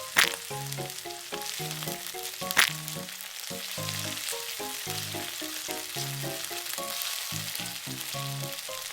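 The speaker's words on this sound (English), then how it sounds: "Put the fish into the frying pan." Fish seasoned with salt, chili powder, turmeric and pepper frying in a pan, giving a steady, continuous sizzle and crackle that runs the whole time beneath background music.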